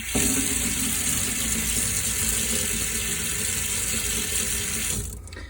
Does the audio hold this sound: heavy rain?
no